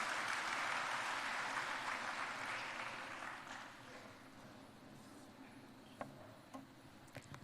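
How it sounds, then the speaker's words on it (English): Applause from an audience at a university inauguration and orientation for first-year undergraduates, loud and dense at first, then thinning and fading out after about three seconds, leaving a few scattered claps. "let me now welcome with a huge round of applause Dr. Shailashree Haridas"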